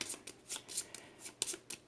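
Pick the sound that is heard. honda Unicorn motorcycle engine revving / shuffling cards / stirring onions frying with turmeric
shuffling cards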